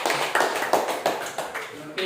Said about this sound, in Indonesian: Beri tepuk tangan untuk 2